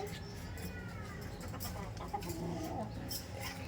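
A native hen clucks after laying an egg, short soft calls repeating under a steady background hum, moderately near and fairly quiet.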